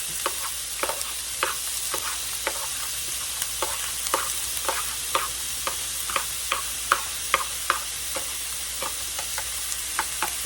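Red bell pepper, jalapeno and onion sizzle in a pan for southwest egg rolls, a steady close hiss broken by regular clicking stir strokes throughout, with no talking.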